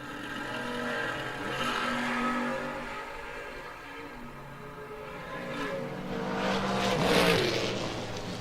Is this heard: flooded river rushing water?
no